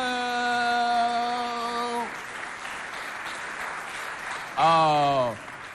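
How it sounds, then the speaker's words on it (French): Studio audience applause on a Chad television variety show about reproductive health education, a burst of clapping lasting a few seconds between stretches of bright tonal music. "Applaudissez pour votre censeur."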